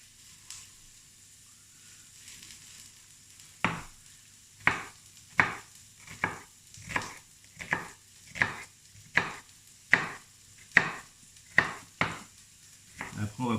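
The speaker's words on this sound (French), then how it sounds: "Et après, on va le couper finement." A knife chops finely on a board, about fifteen crisp, evenly spaced strokes in a steady rhythm, close and clear against a quiet kitchen background.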